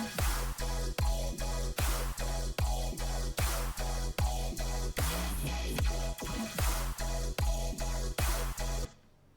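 Color bass made in Ableton with Serum 2 distortion, a loud, heavily distorted and vocoded bass riff. It pulses in even rhythmic chords with short gaps, runs steady throughout and cuts off abruptly near the end.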